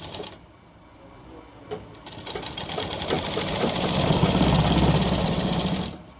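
An electric sewing machine stitching a shirt's chest placket runs in a steady rapid chatter, starting after a brief pause and building louder toward the end before stopping, with no talking.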